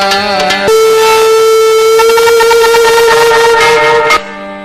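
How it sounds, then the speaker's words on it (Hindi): A conch shell is blown during an aarti devotional ceremony: one loud, sustained, steady-pitched horn-like blast rises sharply and holds for about three and a half seconds before stopping abruptly, with softer tones around it. "शंख बजाए,"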